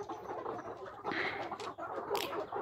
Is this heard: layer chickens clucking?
yes